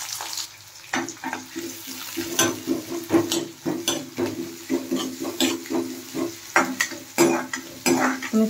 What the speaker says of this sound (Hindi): हम इसे ब्राउन होने तक अच्छे से भूनेंगे।